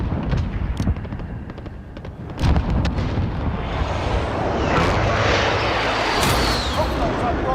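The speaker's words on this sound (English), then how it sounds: "Enemy precision airstrike." Precision airstrike explosions roar in Call of Duty: Modern Warfare, a heavy boom followed by a sustained rumbling blast and debris, with game voice lines spoken over the action.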